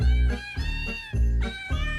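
A Christmas recording in which edited cat meows are strung into a tune, playing loud and continuous with rhythmic, musical pulses and no talking over it.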